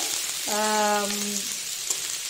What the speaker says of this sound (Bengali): পেঁয়াজটা আমার অনেকটাই ভাজা হয়ে গেছে